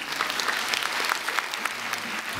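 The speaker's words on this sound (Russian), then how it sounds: "Александр Петрюков, аплодисменты, друзья" A film festival audience applauds at a film presentation, producing a steady wash of clapping from a crowd, heard fairly close with no speech.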